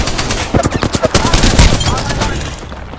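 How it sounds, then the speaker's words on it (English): Rapid automatic gunfire in the video game Apex Legends, a loud close burst of shots in quick rhythm, then a short thud and fading echoes, with game voice lines around it. "I am taking fire."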